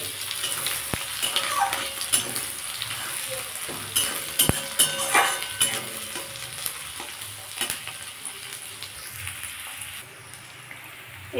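Chopped onion hits hot tempering oil in a pan and fries with a steady crackling sizzle, broken by scrapes and clinks from stirring, close and alone with no talk.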